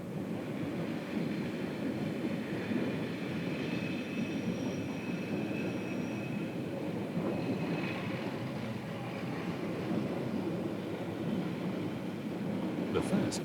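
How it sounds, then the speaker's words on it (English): Brown and cream electric train of the Bernese Oberlandbahn pulling out of Interlaken, Switzerland, a steady low rumble and whine of wheels and motors with brief squeals, continuous and fairly close, with a voice speaking over it. "brown and cream trains of the Bernese Oberlandbahn begin a journey that will climb"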